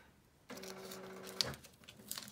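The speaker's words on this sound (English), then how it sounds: "My printer is over there making noise." A home printer starts up and runs with a steady mechanical whir and faint rhythmic clicks, fairly quiet and close, with no talking.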